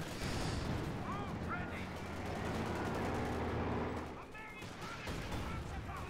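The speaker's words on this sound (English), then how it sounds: "Listen to all that gunfire." Rapid bursts of automatic gunfire crackle continuously with some distant booms, game-style combat sounds running throughout at a steady, busy intensity.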